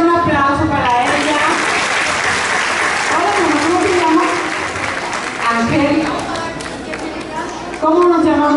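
Audience applauding a little girl at an artistic marathon for dance academies, clapping and crowd chatter running throughout, with voices talking loudly over it.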